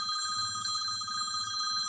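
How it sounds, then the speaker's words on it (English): A telephone rings steadily with a bright, repeating electronic bell tone throughout, fairly close and with no talk over it, during a live garden-news chat. "I think that's my phone."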